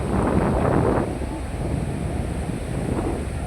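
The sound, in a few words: wind and sea waves on a beach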